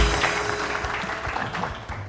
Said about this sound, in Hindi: बहुत सारी तालियां रानी आपा के लिए